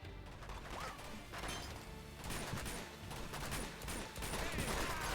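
Gunfire in Uncharted 2 during a fight against a helicopter gunship, scattered bursts and crashes of distant shots in a busy, fairly quiet mix with no clear talk.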